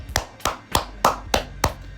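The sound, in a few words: clapping hands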